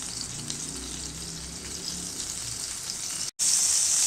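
A spoonful of salted butter melts in a hot pan, giving a steady, close hiss of frying that drops out for a brief moment and then comes back brighter and louder.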